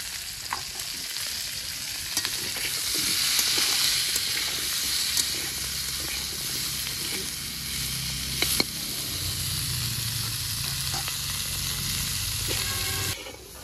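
Green beans (shim) and slit green chillies sizzle and fry steadily with browned potatoes, stirred in the pan, a continuous close hiss with scraping and small clatters over about fourteen seconds, no talking.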